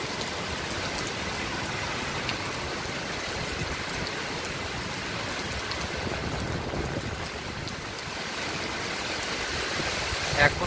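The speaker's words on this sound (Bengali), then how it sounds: "সেই জোয়ারের সাথে বৃষ্টি" Heavy rain pours steadily alongside tidal flood water during Cyclone Remal on the coast at Patharghata, a dense, constant wash of water noise filling the whole clip with no pause.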